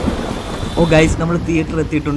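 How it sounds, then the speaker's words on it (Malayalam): Heavy rain pours with rumbling thunder outside a cinema theatre during a storm, a dense loud wash while someone speaks over it. "പെട്ടെന്ന് നല്ല മഴയും പെയ്യുന്നുണ്ട്, ഇടിയൊക്കെ വെട്ടുന്നുണ്ട്"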